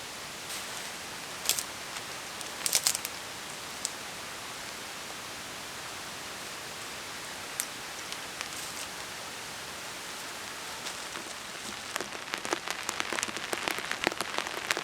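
Rain drums steadily on the roof of a camping shelter on an island at sea, a dense even patter with scattered sharper drop hits that thicken toward the end; no voices.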